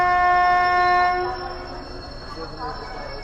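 A train horn sounds loudly for over a second at a railway station near a Seven Hills SF Express, then fades into a rumbling station din with people talking nearby.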